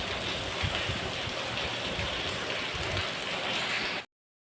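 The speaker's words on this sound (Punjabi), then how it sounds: "ਤੇਜ਼ ਹੋ ਗਿਆ ਪੂਰਾ ਮੀਂਹ" Heavy rain pours down steadily in a dense, unbroken hiss, with soft low patters of drops striking surfaces close by, loud and continuous with no voices until it cuts off abruptly.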